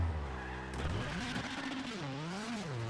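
A car skids hard on the handbrake in the WRC 7 rally video game, tires squealing in a long, sweeping slide as the engine note rises and falls, loud and close, with no talking.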